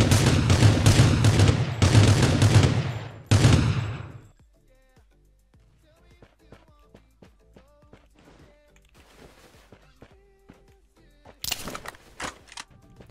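Gunfire in the PC shooter Rules of Survival: a loud, close fusillade of rapid shots rattles for about four seconds, then gives way to faint footsteps and scattered clicks, with a late burst of noise near the end.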